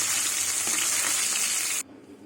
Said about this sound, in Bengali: সব মাছগুলো ভেজে নেব মাছ ভাজা হয়ে গেছে